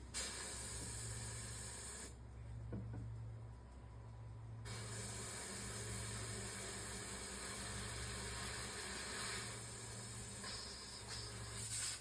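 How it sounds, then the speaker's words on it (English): An airbrush sprays paint in a steady close hiss, with a short pause partway through before the spraying resumes, used for painting a field mouse. "this airbrush"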